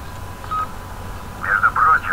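A short electronic text-message alert chime in the racing game Need for Speed Most Wanted, a brief beep followed by a clear burst of tonal blips, heard over background game ambience.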